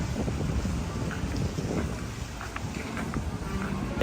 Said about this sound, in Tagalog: Saka mahangin. Sarap ng hangin, mapresko.